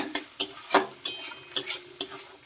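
A spoon stirs ground cumin and coriander paste in a frying pan over low heat for a Bengali rohu fish and potato curry, with a soft sizzle beneath repeated scraping strokes about every half second.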